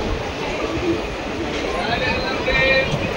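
Ratnachal Express pulls out of Anakapalli station under renovation, a steady broadband rumble of the moving train with faint background voices.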